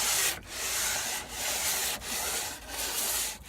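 Wood hand-sanded with Mirka 120 grit sandpaper: steady close rubbing strokes with brief pauses between about five back-and-forth passes, fairly loud and alone.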